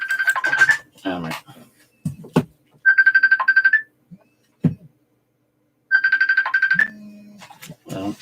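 A phone ringtone plays in repeated bright melodic bursts, loud and close, with short spoken remarks and clatter between rings.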